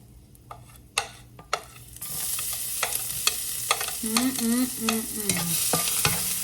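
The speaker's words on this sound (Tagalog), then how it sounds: "Pwede na tayo mag-saute ng ating garlic" Garlic sautéing in olive oil for beef chop suey: a few sharp utensil taps on the pan first, then a steady sizzle bursts up with repeated stirring clinks and scrapes, close and without voices.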